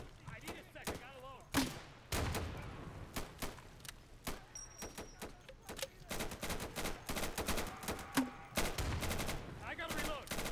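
Gunfire in the video game Insurgency crackles in bursts and single sharp shots, some close and some farther off, scattered across the stretch with brief pauses between volleys.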